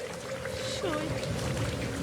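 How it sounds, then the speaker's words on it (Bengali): Steady rain effect in a Bengali radio drama, a constant broadband hiss of falling rain running beneath a narrating voice for the whole stretch. "বাইরে অবিশ্রাম বৃষ্টি পড়ছে"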